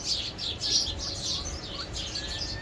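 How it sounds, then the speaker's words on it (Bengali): Several birds chirp and tweet among fruit trees in repeated bright bursts that overlap at a moderate distance over a faint outdoor background. "পাখিরা কিচিমিচি করছে দেখেন"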